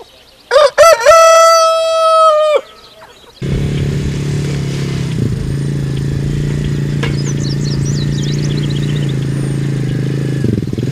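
Rooster crows loudly up close on a farm with free-ranging chickens, then a steady engine rumble takes over with faint bird chirps and clucks in the background.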